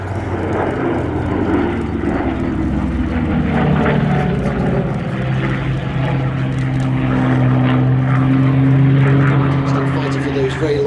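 A Lockheed P-38 twin-engine, twin-tail-boom warplane drones overhead at a UK airshow, its steady propeller roar swelling and holding loud throughout, with a voice talking over it.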